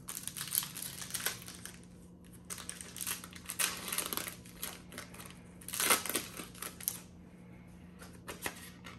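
A Pokémon Shining Fates booster pack being torn open: crinkling and crackling foil wrapper with rustling card handling in uneven bursts, close to the microphone and fairly quiet, with no voices.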